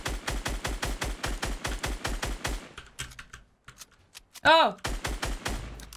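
Gunfire in the video game Fortnite rattles out as fast, evenly spaced close shots in long strings, pausing midway while a voice briefly exclaims, then resuming.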